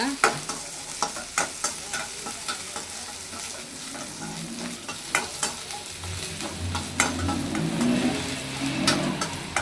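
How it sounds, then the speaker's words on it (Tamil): Semolina roasting in a pan for rava kesari, stirred with regular scraping strokes over a soft dry crackle, the stirring close and rhythmic, no one speaking. "இதை வந்துட்டு வறுத்து எடுத்துக்கலாம்"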